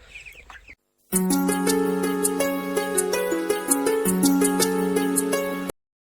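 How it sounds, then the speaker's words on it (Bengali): Broiler chickens about a month and a half old on a poultry farm fill a shed with continuous overlapping clucks and chirps, a busy flock chorus heard up close after a brief quiet start. "এই দেখো আমার মুরগিগুলো"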